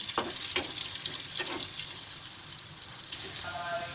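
Potatoes frying as french fries in a pan, a continuous hissing sizzle close by with intermittent stirring clinks and scrapes.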